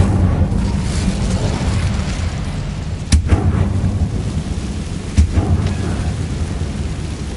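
A fire spell is cast in the game Hogwarts Legacy, heard as a low, steady roar with two sharp booming bursts partway through, and no voices.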